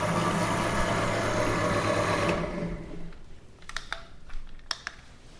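A 13mm HNL bench drill press runs at its lowest speed with a steady, loud motor whine that cuts off partway through, followed by scattered faint clicks and knocks.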